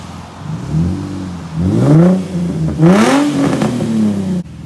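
A Nissan G35 fitted with a custom catback exhaust revs up twice, the engine pitch climbing and falling in each loud, close burst before cutting off abruptly.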